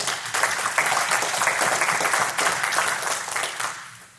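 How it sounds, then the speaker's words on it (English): An audience at a real estate keynote gives a dense, loud round of applause, sustained clapping from a large crowd that tapers off at the close. "Give yourself a round of applause for coming here today."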